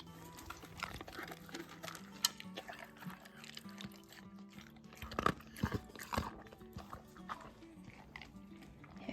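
Several dogs eating dinner in stalls at evening chores, with irregular close crunching, lapping and bowl clatter at low level, a few sharper knocks.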